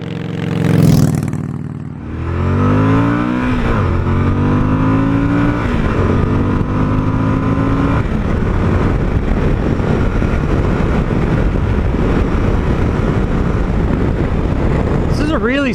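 A 2020 Suzuki V-Strom 1050XT motorcycle engine revs up through several rising throttle sweeps, then settles into a loud, sustained roar while riding, close and constant.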